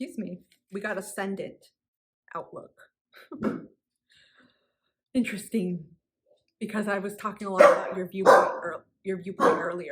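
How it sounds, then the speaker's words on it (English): Dogs bark in short bursts in a home, intermittent and fairly near, mixed with someone talking and some throat clearing. "My apologies for my dogs."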